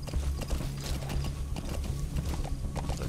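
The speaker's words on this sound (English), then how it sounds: "just an inconspicuous horse trotting along in the middle of the desert" Hooves of a horse trotting through desert in the video game Metal Gear Solid V: The Phantom Pain clop in a steady rhythm, close and continuous, with a low rumble underneath.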